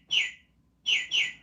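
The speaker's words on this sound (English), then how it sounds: "We need birdie sounds." Small bird chirps sound as three short, bright tweets, the last two close together, faint and alone against near silence.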